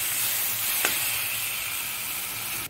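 Fiddlehead fern greens (dhekia bhaji) frying in hot oil in a pan, giving a loud, steady hiss and sizzle throughout, with one brief sharper crackle early on and no voices.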